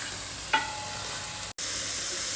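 Spice masala for an octopus curry sautéing in a pan, a steady soft sizzle with one brief stir or scrape near the start, with no talk over it.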